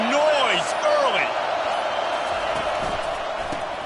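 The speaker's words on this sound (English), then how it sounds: "This crowd bringing the energy and noise early." Stadium crowd noise in the NCAA 25 college football video game, a loud, continuous roar that carries on throughout, with a commentator's voice speaking over it early on.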